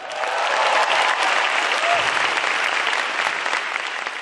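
Audience applause at a televised stand-up comedy grand final in a large hall, a dense, loud wash of clapping that swells and holds steady for a few seconds.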